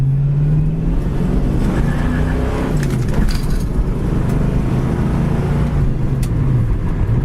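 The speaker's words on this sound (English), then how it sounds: "It's got a nice sound and dual exhaust." A white 1965 Ford Mustang convertible with dual exhaust idles and runs steadily, its engine note loud and close with a low drone that shifts slightly in pitch over several seconds.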